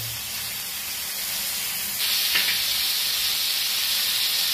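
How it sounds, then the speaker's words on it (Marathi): A stuffed bombil (Bombay duck) roll filled with prawns is flipped in a hot pan, and a loud steady sizzle jumps up midway and keeps hissing close by, with no talk. "आता हे पलटी मारून घेते असते का दुसऱ्या साईडने फ्राय व्हायला"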